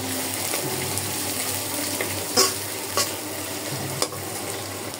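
Onion frying in a kadai for a Bangladeshi dried-fish curry: a constant, close sizzling hiss with a few sharp spatula clicks, no voices.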